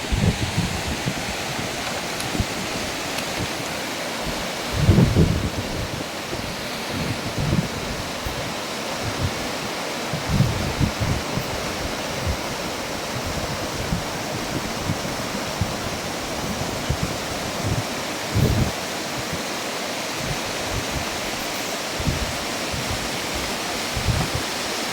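Beas River rushing through the Kullu-Manali valley at low seasonal flow, a continuous loud roar of fast water with occasional splashes and no voices.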